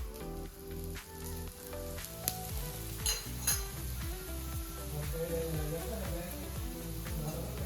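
A coriander paratha fries in oil on a flat tawa, giving a steady, fairly quiet sizzle with occasional scraping and stirring clinks from a utensil.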